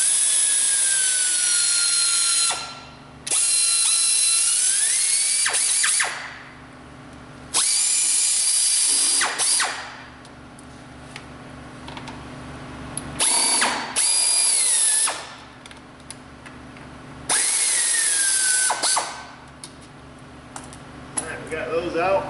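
Bolts on the timing cover of a Subaru EJ253 engine are loosened and backed out with a ratcheting power tool, heard in several loud, close bursts separated by short pauses, with brief clicking between them.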